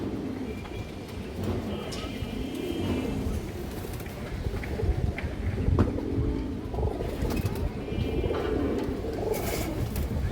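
A black Muslodom male pigeon with a crest and feathered feet coos in repeated low, soft phrases, close by against a murmuring background with a few sharp clicks.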